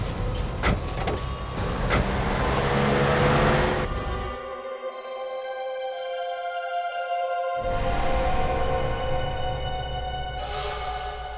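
A car drives steadily past at close range with a sustained engine and road rumble, and its tone shifts partway through before the drone settles back in.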